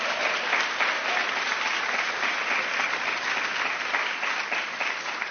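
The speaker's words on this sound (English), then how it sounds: "Give yourself a round of applause." Steady, dense applause from a large audience at a White House summit on women's health, continuous and loud for the whole stretch with no talk.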